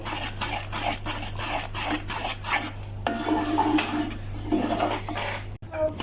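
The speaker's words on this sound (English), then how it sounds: "just gonna stir this in" A Mysore pak mixture is stirred in a pan, with repeated scraping and clinking of a utensil against the metal, a steady low hum underneath, and a brief sizzle near the end.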